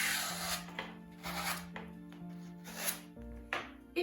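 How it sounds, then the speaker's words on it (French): A knife cutting the corners off a floral foam oasis brick, giving four soft, scraping, rasping strokes separated by short pauses over a faint steady hum, fairly close and quiet. "Notre brique d'oasis, nous allons couper les coins"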